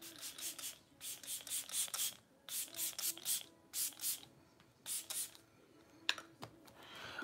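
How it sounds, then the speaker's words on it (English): Makeup setting spray misted onto a face in quick repeated bursts, close and fairly soft, each short hiss separated by brief pauses in an uneven rhythm. "Setting spray. This one keeps it on grip"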